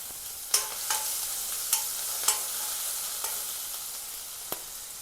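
Garlic and chili paste sizzles in hot oil already seasoned with cumin seeds and asafoetida, a steady crackling hiss broken by several sharp pops and spatters, close up with no talking.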